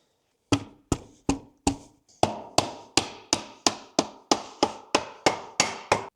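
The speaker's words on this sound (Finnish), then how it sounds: "Sitten täytyy lyödä täältä pultti paikalleen." A bolt is hammered into place on a moped with a steady series of sharp metallic blows, about a dozen strikes landing at an even, quickening rhythm, loud and close, with no talking.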